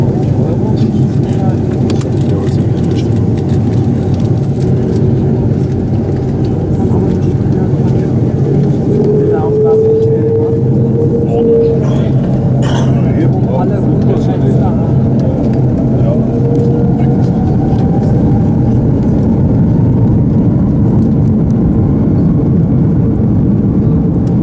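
Steady loud cabin roar of an Eurowings Airbus A330 in flight from Düsseldorf to Montego Bay, a constant broadband engine and airflow drone filling the whole stretch, with faint voices underneath.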